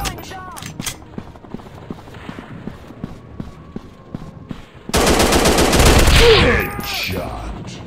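Rapid gunfire from the mobile first-person shooter FPS Commando Strike Mission: a string of light shots and clicks, then a loud sustained burst of automatic fire near the end, with game voices calling out over the action.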